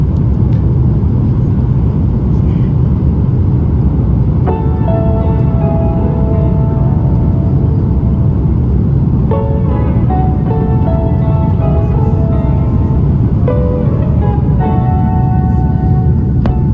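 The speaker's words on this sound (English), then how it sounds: "Smooth takeoff from OR Tambo en route to Istanbul International Airport" A Turkish Airlines airliner taking off from OR Tambo, bound for Istanbul, fills the cabin with a loud, unbroken low rumble, while faint tonal whines and chimes come and go above it.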